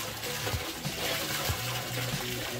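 Water pours and gurgles into a septic tank container of a homemade bio-septic system with airlifts running, a steady close churning flow with rhythmic bubbling pulses.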